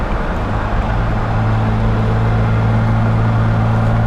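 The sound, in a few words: modified 1968 Jaguar E-Type roadster driving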